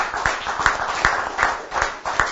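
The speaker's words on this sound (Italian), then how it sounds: "Un applauso a questo grande gigante." Audience at a 2013 youth cycling event in Veneto claps in steady unison, roughly two beats per second, in a tribute to a late sprinter; the rhythmic clapping is fairly close and fills the whole stretch without talk.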